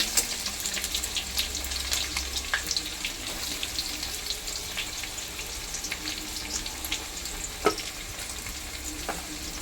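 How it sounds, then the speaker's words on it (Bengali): Spices and chopped onion frying in hot oil for a home-cooked egg curry, a steady close sizzle throughout with faint stirring clicks and no talk. "ফোড়নটা একটু ভালো করে ভাজবো।"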